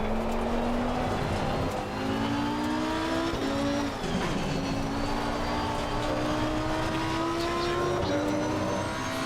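A race car engine howls steadily through a lap of Spa-Francorchamps in a racing game, loud and close, its pitch climbing through the gears with brief dips at each shift, alone without talk.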